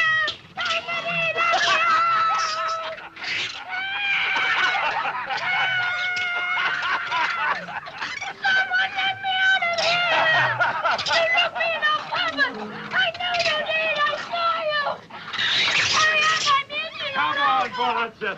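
Several cats meow and yowl almost continuously, loud and close, in overlapping drawn-out cries with brief pauses, sometimes rising into caterwauling, with people talking in between.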